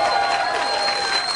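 Town hall crowd for a Ron Paul campaign event in Meredith, New Hampshire, cheering and applauding in a steady dense wash of claps and shouts, fairly loud and continuous with no clear talk over it.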